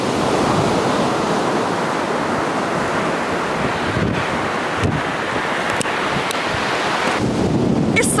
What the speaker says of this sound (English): really hammering the rocks over there,